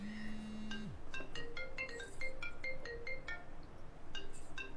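A phone ringtone plays a repeated melodic chiming pattern, clear and fairly close, after a short steady tone, in a scene from the Pakistani drama Main Manto Nahi Hoon, with no talk over it.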